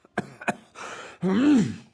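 A video game character's short throaty cough, then a second quick cough, followed by a drawn-out groaning breath, close and fairly quiet.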